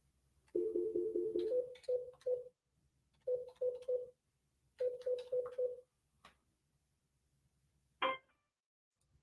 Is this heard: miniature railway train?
no